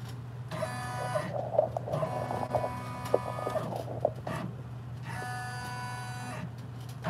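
Six-needle embroidery machine tracing a design on a onesie in its hoop, a steady mechanical hum with whirring motor bursts that start and stop as the frame moves, close and moderately loud.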